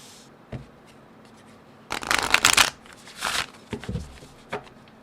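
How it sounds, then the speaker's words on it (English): Starseed Oracle cards are shuffled up close: a few soft taps and then a loud riffling burst, followed by shorter flutters and clicks as the deck is squared, with no voices. "let's go ahead now and pull a Starseed Oracle card"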